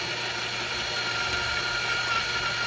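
A motorized case trimmer hums steadily while trimming .45 Colt brass cartridge cases, a constant mid-pitched whir with slight cutting variation, close and unbroken.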